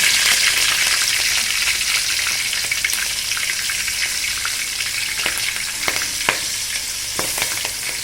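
Cumin seeds and green chillies frying in hot oil for noodles, a loud, steady close-up sizzle with scattered sharp pops and crackles throughout.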